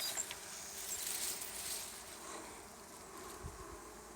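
Honey bees swarm a feeder of 1-to-1 sugar water at a backyard hive, a dense, steady buzzing close to the microphone with small thumps and shifting hum.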